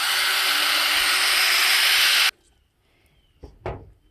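Fine-grit pad sanding a cloudy plastic car headlight lens, a steady loud broadband rubbing hiss for about two seconds that stops abruptly, followed by quiet and a couple of brief soft knocks.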